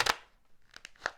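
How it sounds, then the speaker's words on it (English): Tarot cards being shuffled up close: a sharp riffling burst at the start, then a quiet gap and a few softer crisp card flicks near the end, with no voices. "Let's get one more shuffle in for your person."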